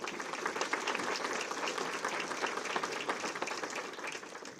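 Audience at a Jackson County community event giving a round of applause for sponsors, dense sustained clapping from a large crowd, even and continuous throughout with faint voices mixed in.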